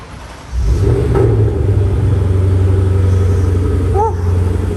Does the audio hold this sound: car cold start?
yes